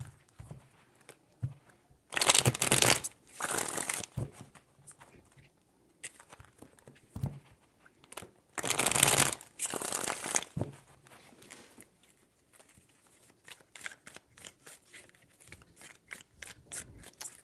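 Tarot cards are shuffled by hand in two distinct bursts of dry, rapid riffling, with quieter soft taps and handling between them.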